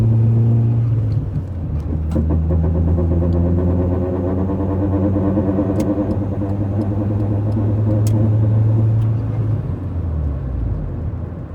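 A car engine drones steadily while driving at night, its pitch rising and settling through gear changes, loud and close from inside the cabin with a few faint clicks.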